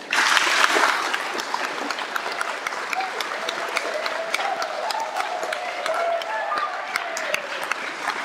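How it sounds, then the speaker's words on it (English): Audience applause for a young candidate after a live officer-selection interview before a large crowd, a dense, steady wash of clapping that starts loudest and carries on evenly throughout, with faint voices mixed in. "And a big round of applause for him."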